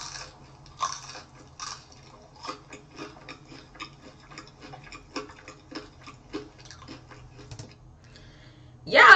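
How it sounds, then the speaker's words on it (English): Close, crunchy chewing of a burger in an eating compilation, a run of quick irregular bites and mouth sounds over a quiet hum, ending in a sudden loud burst. "the way she chewing on it make it sound kind of dry"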